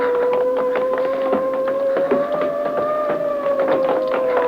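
A police car siren wails with a slowly rising and falling tone, sounding steadily over a busy background of clattering noise, no voices.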